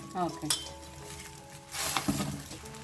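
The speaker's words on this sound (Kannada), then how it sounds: "ಲೋ ಫ್ಲೇಮಲ್ಲಿನೇ ಇಟ್ಕೊಂಡು ನಾವು ಪುಂಡಿ ಪಲ್ಯ ಏನು ಸೋಸ್ ಇಟ್ಕೊಂಡಿದ್ವಲ್ಲ ಅದನ್ನ ಹಾಕೊಳ್ಳೋಣ" Gongura (pundi) leaves sizzle in a pan over a low flame, a steady frying hiss broken by a few sharp metallic clinks of a utensil against the pan, heard up close.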